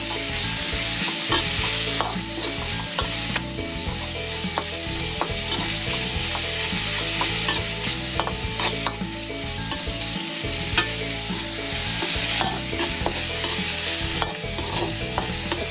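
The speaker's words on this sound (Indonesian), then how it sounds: "Gongso-gongso terus sampai ayamnya benar-benar" Chicken stir-frying in a pan, a steady loud sizzle with repeated scrape-and-toss stirring strokes at an irregular rhythm, close up, with no voices.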